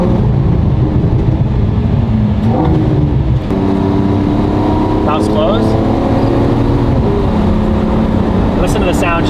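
A Lamborghini Aventador Ultimae V12 with its exhaust valves closed drones steadily nearby as it cruises and rises in pitch, heard from inside with the windows down, while a person talks over the engine.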